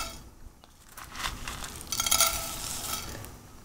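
Dry oats tipped into a hot frying pan and stirred, a close scratchy rustle with soft scraping strokes that swell and fade over a few seconds.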